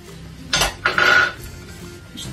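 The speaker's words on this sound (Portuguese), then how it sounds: "aqui neste preparado vamos aqui misturar então o ovo batido" Utensil clinks and scrapes against a bowl while beaten egg is stirred into a cream mixture for shrimp gratin, two or three short close strokes with a brief ringing clink.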